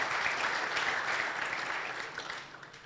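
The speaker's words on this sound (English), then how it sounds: "Give him a round of applause." An audience at a business coaching seminar claps in a soft, even round of applause that tapers off toward the end, heard faintly from a distance.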